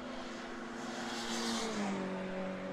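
Porsche race cars at Snetterton on the last lap of a BRSCC Porsche Championship race, a faint, distant engine drone that swells briefly and drops in pitch as a car passes.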